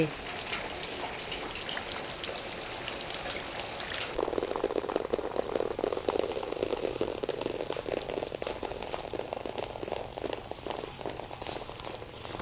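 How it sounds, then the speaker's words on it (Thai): Steady rain pours down with a dense hiss and patter, continuous and fairly close throughout. "ดูฝนตกไปไหนไม่ได้เลย"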